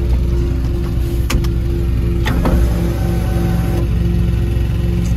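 Sunroof motor running on a 1999 Honda Civic coupe, a steady electric whine over a low engine hum, with a few brief clicks and knocks partway through, close and moderately loud, no talk.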